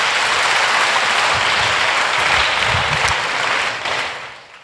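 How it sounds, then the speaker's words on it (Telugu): A church congregation claps loudly together, a dense, steady wall of applause that holds for about four seconds before tapering off. "నమ్మిన వారు గట్టిగా చప్పట్లు కొడదాం."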